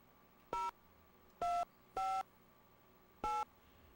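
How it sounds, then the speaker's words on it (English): A cell phone dials a call in The X-Files on PS1: four clean keypad tones, each short and distinct, separated by uneven pauses over a quiet hum. "Let's use the cell phone to call that."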